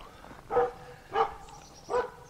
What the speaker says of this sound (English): they're going to hear dogs when they come out here.